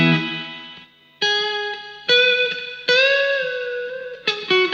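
An electric guitar runs through a reverb pedal set to lo-fi mode. A handful of chords and notes are struck one after another, each ringing out into a hazy, slightly wobbling tail, close and fairly loud, with no talking.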